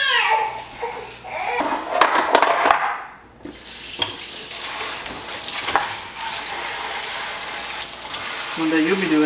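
Tuna fillets rinsed under a running kitchen tap while home-canning, a steady rushing splash of water with dips and surges, close by, with voices talking over it.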